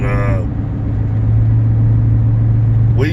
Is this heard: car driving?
yes